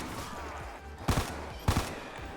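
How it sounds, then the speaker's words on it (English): Two sharp gunshots fired about half a second apart during a Call of Duty custom zombies match, heard over a low game background hum. "Oh, I even missed that last shot, dude."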